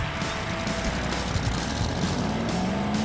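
Diecast toy cars, a green 72 among them, race down a track in a steady, continuous rolling roar with a faint rising whine near the end.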